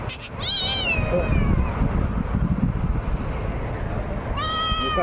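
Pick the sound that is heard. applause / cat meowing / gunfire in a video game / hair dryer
cat meowing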